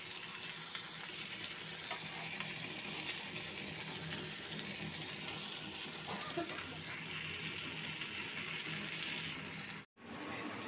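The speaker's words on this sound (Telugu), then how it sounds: "బాగా ఫ్రై అవుతూ ఉందన్నమాట" Fish frying in a pan gives a steady, close sizzle that hardly changes, broken once by a momentary dropout near the end.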